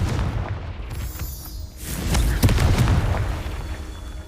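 Blasting-curse explosions from the Hogwarts Legacy video game, one dull boom early, then a sharper burst with crackling debris around the middle, followed by rumbling tail under faint game ambience.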